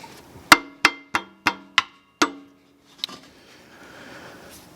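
A big hammer taps a brake caliper into place on a camping rig: six sharp, close metallic strikes in a quick, fairly even rhythm, then a pause and one fainter knock.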